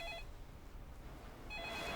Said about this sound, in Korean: 어이, 누가 전화 좀 받지?